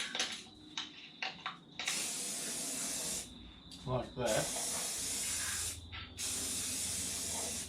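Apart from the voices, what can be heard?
spray can spraying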